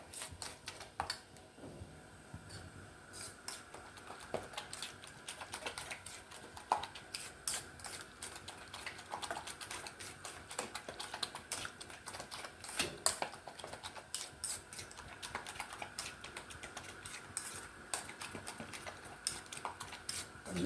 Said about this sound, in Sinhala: දැන් හොඳට පොඩ්ඩක් අපි ඉතින් කලවම් කරගත්තා නම් හොඳයි ගොඩක්ම මුරුංගා ටික